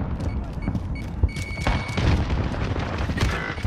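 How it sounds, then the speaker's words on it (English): In a video game, a frag grenade goes off as a loud, booming burst among other rumbling blasts and scattered gunfire, and bright electronic tones sound over the din. "Throwing frag. Grenade coming up, Cam."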